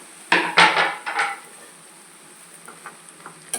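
Raw plantain pieces tipped into a pan of fried onions for a plantain and dried prawn curry: a few loud clattering thumps and scrapes of pieces and utensil against the pan, then softer taps and a light sizzle.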